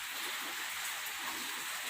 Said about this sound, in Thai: ฝนตกได้มื่อนี่ ตกแต่เช้าเลยนะ